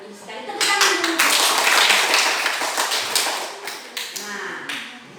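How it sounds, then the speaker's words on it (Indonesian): Schoolchildren in a classroom clap their hands together, a burst of quick, loud claps that swells and then thins into scattered, separate claps, with voices faintly underneath. "Tepuk tangan dulu."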